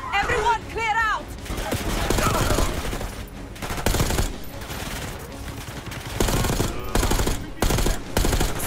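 Gunfire in the Call of Duty Black Ops 6 campaign, loud bursts of automatic fire and rattling shots amid chaotic shouting voices and other game sounds.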